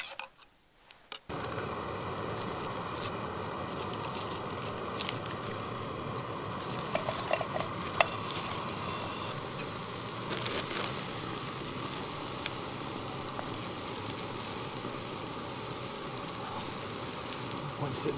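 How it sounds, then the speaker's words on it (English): Steak searing in a pan on a camp stove at a wild campsite in Ireland, a constant moderate sizzle with faint ticking and light clinks, continuing for some time after a brief quiet start. "Let's get the steak going."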